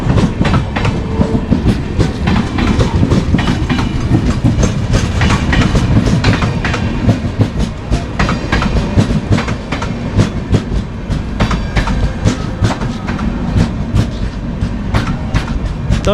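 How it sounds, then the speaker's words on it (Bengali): A train pulls into Gangarampur station, a loud, steady rumble of wheels with rhythmic clickety-clack beats and rail clatter running throughout, with no talk. "তো এটা কলকাতার ট্রেনটা ঢুকে গেল"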